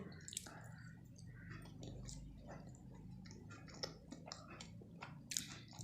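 Soft, irregular chewing and mouth sounds at close range, with small clicks and wet smacks over a faint low background hum.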